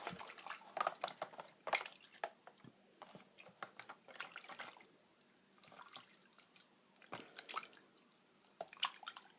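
Water trickles and drips while fingernails coated in dip powder are rinsed clean, with irregular soft splashes and wet squishing, faint and close, with no talking.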